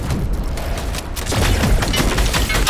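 Gunfire in the Fortnite video game during a tournament match, a loud, dense barrage of rapid shots and booms that runs continuously and grows heavier partway through, with no talking over it.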